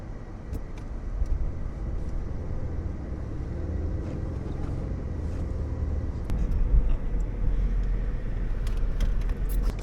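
Jeep Liberty in 4 low, stuck in deep icy snow, its engine droning steadily with a low rumble that swells slightly toward the end, no talking over it.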